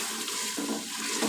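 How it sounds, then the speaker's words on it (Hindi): Water poured into frying chicken curry masala in a home kitchen pot, a steady rushing pour that briefly changes tone partway through and carries on, with no talking. "अब मैं इसमें पानी डालने लगी हूँ।"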